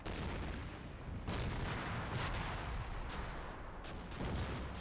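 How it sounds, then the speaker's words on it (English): Mortar shells land in a video game, a dense barrage of overlapping booms and rumbling explosions that stays loud and continuous, with bursts swelling and fading throughout. "starting to get the mortars landing now"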